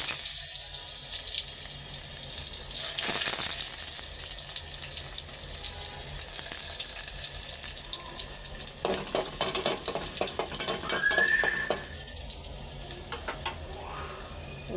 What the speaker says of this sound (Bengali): ডালটাও বাগার দিয়ে নিব। একটু রসুন দিয়া বাগার দিয়ে